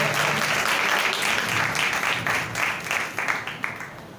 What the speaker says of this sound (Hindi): जोरदार तालियां खुदावंद के लिए बजाएं